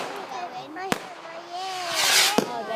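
Fireworks display at Yattendon with rockets whistling upward and sharp bangs bursting in the sky, a couple of distinct cracks heard at a distance while people chatter nearby.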